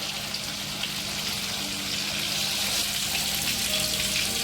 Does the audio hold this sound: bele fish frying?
yes